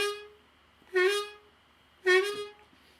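Two separate notes are played on the 3 draw of a blues harmonica, each a reedy tone that dips in pitch and then settles, with a short pause between them and no talking.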